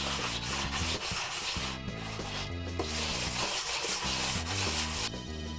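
Sandpaper of 120 grit rubbing over karambit knife handles, a close, steady back-and-forth scratching in repeated strokes with short pauses between passes.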